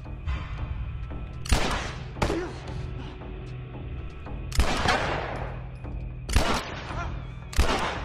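Bursts of gunfire from The Last of Us on PS3 in a hard-difficulty fight, several sharp loud shots spaced a second or two apart over a steady low game background.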